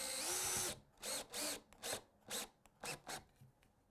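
A power drill drives a screw into soft pine without a pilot hole, starting with a long whirring run and then breaking into a series of short bursts as the screw seats, close and clear with no talk.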